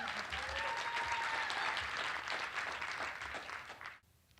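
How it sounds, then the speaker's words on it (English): Applause from the audience at a community arts awards ceremony, a fairly quiet, dense patter of clapping that holds steady, then fades and cuts off near the end, with a faint voice-like tone early on. "Can we get a round of applause for that?"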